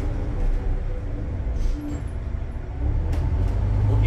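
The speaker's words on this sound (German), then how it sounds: "Und ihr hört auch den Sound, wenn man so Gas gibt." A city bus engine revs up as the driver accelerates, a deep low rumble swelling louder toward the end over steady cabin and road noise, with no talking.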